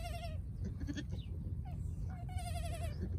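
Newborn twin baby goats bleat on a cold night, giving two thin, wavering cries, one near the start and one longer near the end, over a constant loud rushing background.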